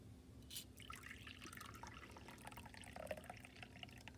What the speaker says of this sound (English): I'm going to pour myself a cup of coffee